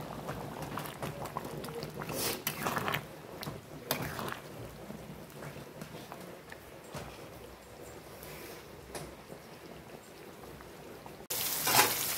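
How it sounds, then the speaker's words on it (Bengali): Pieces of catla fish fry in hot oil in a home kitchen, with a faint, continuous crackling sizzle and a few brief louder bursts. "মাছ ভাজা হচ্ছে, কাতলা মাছ"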